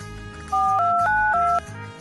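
A phone rings out after a call is placed, one short electronic burst of stepped two-tone beeps, loud and close, over a low background hum.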